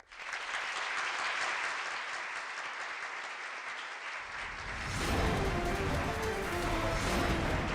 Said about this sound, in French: applaudissements pour Sadika, je vous prie.